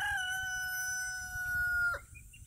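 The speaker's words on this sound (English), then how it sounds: "Whenever you're close to a rooster, they're always gonna make a lot of noise." A rooster on a homestead gives one long, loud, sustained crow nearby, ending in a sharp break, followed by faint clucking and quiet background.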